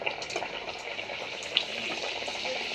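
Thinly sliced potato chips fry in hot oil with a steady, continuous bubbling hiss, moderately close, joined by one brief sharp crackle near the middle.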